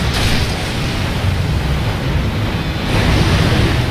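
Loud, continuous rushing splash and churn of water in Resident Evil 4, a broad surging wash with no talking.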